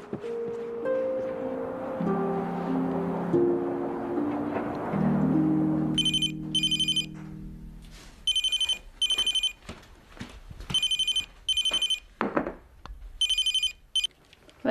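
Telephone bell ringing in repeated bursts indoors, clear and fairly loud, starting after a few seconds of low tonal music and continuing in a steady ring-pause rhythm.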